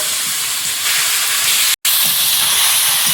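Potatoes and large prawns frying in hot oil in a home kitchen pan, a loud steady broadband hiss and sizzle that runs continuously, broken by one brief gap before resuming just as strong.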